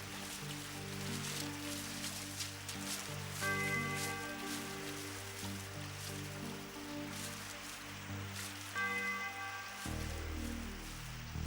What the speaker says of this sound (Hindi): तुम जानते हो मुझे बारिश पसंद नहीं।